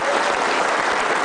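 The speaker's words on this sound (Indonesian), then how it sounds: "Berikan tepuk tangan untuk Anda." An audience at a motivational seminar claps, a short, dense, even burst of applause at steady loudness with no talking over it.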